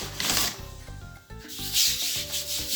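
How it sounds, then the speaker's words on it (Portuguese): Thin, fresh handmade Italian pasta dough rolled up by hand from the edges, with close soft rubbing and brushing strokes coming in uneven bursts over a faint tonal background. "Quando a massa estiver bem fininha, então nós vamos enrolá-la pelas pontas."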